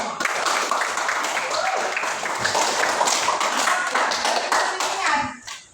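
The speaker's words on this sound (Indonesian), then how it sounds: "Tepuk tangan untuk kita semua." Students in a classroom clap together in a lively, slightly uneven burst, with children's voices mixed in, before the clapping stops abruptly at the end.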